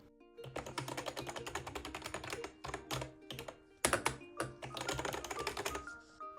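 Rapid clacky typing on a YUNZII ACTTO B309 typewriter-style mechanical keyboard, dense bursts of keystrokes with short pauses and a louder thunk midway, close up.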